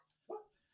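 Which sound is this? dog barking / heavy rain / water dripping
dog barking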